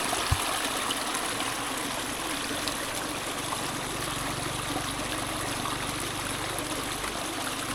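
A village stream in a remote Laotian valley keeps up an even, rushing flow close by, a dense continuous babble with no talk over it.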